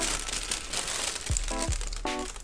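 A thin plastic bag is crinkled close by, a continuous dense rustle with a few sharper crackles and two brief squeaky tones near the end.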